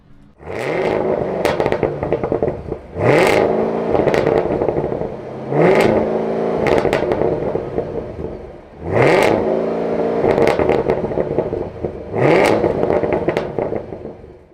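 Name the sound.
Chevy Camaro ZL1 engine revving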